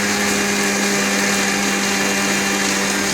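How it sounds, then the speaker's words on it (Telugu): A mixer grinder runs steadily at close range, grinding cooked gongura leaves with green chillies into a paste, a loud continuous motor whine with a constant hum throughout, no voices. "ఇప్పుడు దీన్ని మిక్సీ కొట్టుకోవాలి, గ్రైండ్ చేయాలి."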